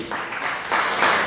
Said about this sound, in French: Applaudissez pour la vie.